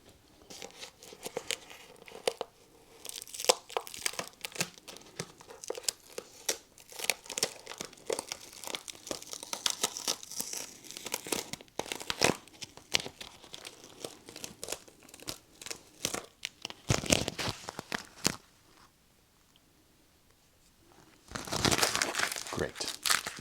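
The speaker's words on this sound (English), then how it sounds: "Let's take some of this tape off." Masking tape is peeled and torn off a freshly painted Royal Enfield Classic 350 engine, making close crinkly ripping bursts that repeat steadily, pause briefly, then finish with one loud final strip.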